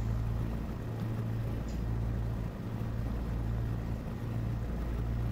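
A DHC-1 Chipmunk's piston engine in a flight simulator drones steadily and loudly throughout, a continuous low humming roar with a stable pitch and no talk over it.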